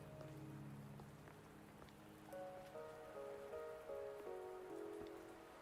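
Steady rain patters across the scene in the video game Wuthering Waves, a soft continuous hiss with a few light drops, heard alone under quiet tonal game music.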